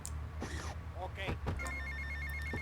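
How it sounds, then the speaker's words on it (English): An in-game phone rings in Grand Theft Auto: Vice City Definitive Edition, a steady electronic trill that starts partway through and repeats over engine rumble and game sounds, with a voice talking earlier. "a phone call rang"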